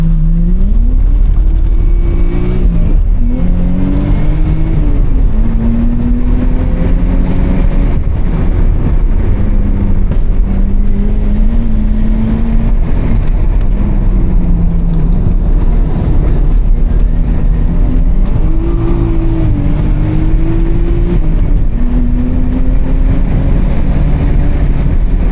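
A Nissan Skyline race car heard onboard during a hillclimb championship run at Mt Leura, its engine loud and constant as revs climb and drop through repeated gear changes, with no voices.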